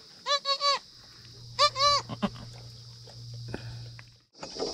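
A goat being led home on a hillside bleats several times in short wavering calls close by. Footsteps and shuffling follow, with a low hum underneath and a rustle at the end.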